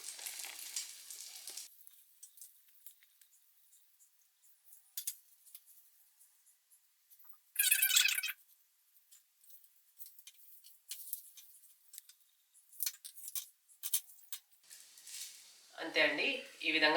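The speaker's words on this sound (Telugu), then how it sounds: "ఈ ఎగ్లో ముంచేసి పెను మీద మనం ఫ్రై చేసుకోవాలి" Egg-dipped bread slices fry in a spoonful of oil in a pan, giving intermittent sizzling bursts with quiet gaps and short handling noises, fairly close.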